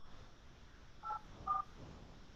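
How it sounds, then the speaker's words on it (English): Phone keypad dialing tones, two short distinct beeps about half a second apart over a faint background hiss, heard with no talking. "I'm about to call her."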